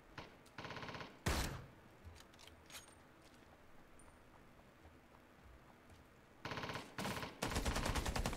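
Gunfire from a weapon in the video game Rings of Elysium, with dense automatic bursts near the start, a sharp shot with a quieter stretch after, then rapid repeated volleys returning loudly toward the end.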